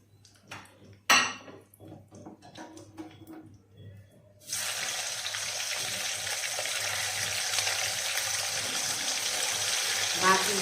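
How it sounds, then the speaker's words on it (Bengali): Beef pieces for Chittagong-style quab frying in a pan: quiet clinks and handling noises first, then a sudden loud, steady hiss of sizzling oil that continues strongly to the end. "এখন বাকি যে মাংসগুলো আছে ওগুলা ভেজে নিব।"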